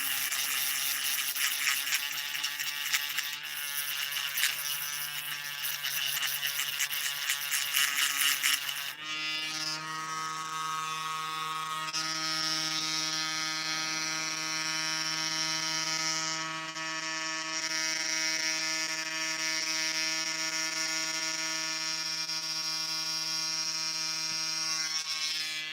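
A handheld Dremel rotary tool whines steadily as it cuts a pin out of a lock core held as a vise, with a sustained high buzzing tone that shifts pitch partway through and continues unbroken for the whole stretch.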